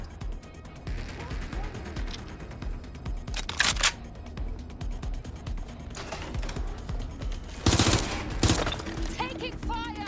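Gunfire in the Watch Dogs: Legion action game, clusters of sharp shots and mechanical clatter among busy game effects and music, with a couple of louder bursts; a voice speaks briefly.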